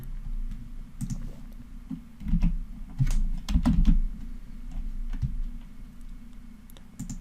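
Keys clack in short, irregular bursts of typing and clicking over a low steady hum, close by and moderately loud.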